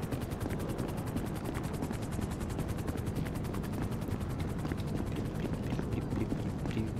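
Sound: helicopter in video game Grand Theft Auto V

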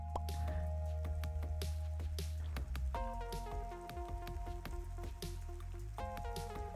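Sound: rain falling in the video game Necesse

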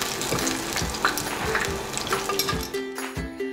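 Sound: kabocha tempura frying in oil

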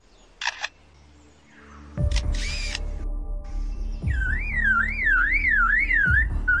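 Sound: Australian mimic bird imitating sounds such as a car horn

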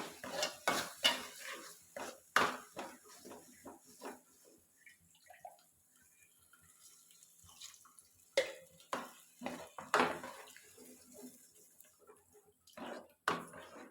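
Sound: sautéing ginger curry in oil in a pan

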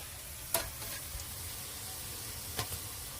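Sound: ginger garlic paste frying in pan with fish

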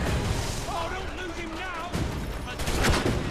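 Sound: gunfire aimed at player in video game Assassin's Creed III

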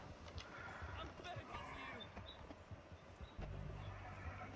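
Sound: horse galloping in snow, video game

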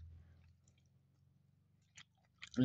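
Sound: chewing food while eating breakfast

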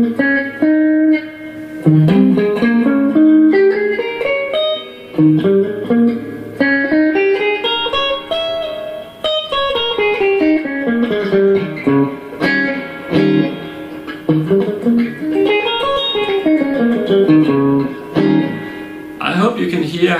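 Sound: electric guitar playing melodic pentatonic licks

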